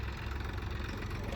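A John Deere 5310 tractor idles close by after being stuck in mud, with a steady low rumbling engine drone and slight knocking vibration, no voices.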